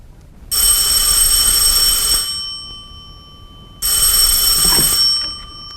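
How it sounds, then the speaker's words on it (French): An old-style telephone bell rings twice, each a loud, continuous metallic trill lasting about two seconds with a pause between. "À 11h du soir, le téléphone sonna."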